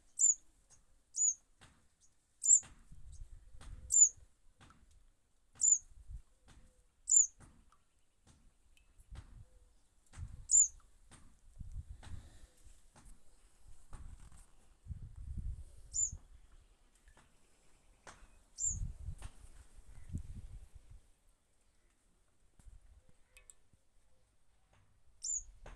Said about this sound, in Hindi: देखिए कितना शानदार पक्षी है।